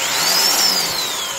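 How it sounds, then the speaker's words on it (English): A Vevor second-generation 5.5 joule SDS Plus tri-mode rotary hammer drill runs with both hammer and rotation disengaged. Its motor whines steadily and loudly, close up, with a pitch that rises and then eases back, and no one is talking. "engage the hammer disconnect and the rotation disconnect. And that way, you know, the tool's running."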